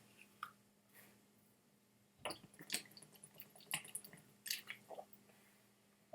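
Water drips and trickles into a glass of whisky in a quiet room, falling in a few short bursts of small splashes with gaps between them.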